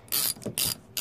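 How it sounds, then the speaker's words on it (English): A 7/8 ratchet clicks in two quick bursts as it tightens a cam lock with a nylon washer, crisp close pawl ratcheting with brief pauses between strokes. "Now I'm going to take my 7/8 ratchet and just"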